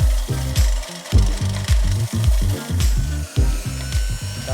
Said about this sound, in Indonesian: Ratakan permukaan resin lalu diamplas